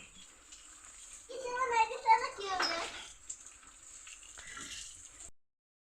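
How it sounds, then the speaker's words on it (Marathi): A child splashes and sprays water outdoors, giving a rushing spray in one loud burst amid running water. A voice and an adult voice are heard over it. "सार्थ काय कर पाणी मारते सारं ओलं केलं पूर्ण त्याने"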